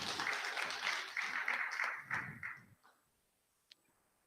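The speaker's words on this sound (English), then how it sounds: "So give them a big round of applause." Audience applause for children's presentations at a Sunday morning service, a dense burst of many hands clapping that fades out after about three seconds, followed by one faint isolated click near the end.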